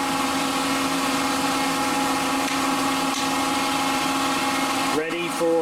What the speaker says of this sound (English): And of course, the compressor kicks on right now